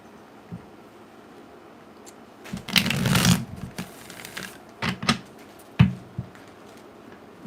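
Tarot cards are shuffled by hand in close, crisp riffling bursts, a long loud flurry in the middle followed by several shorter taps and flicks against a quiet background.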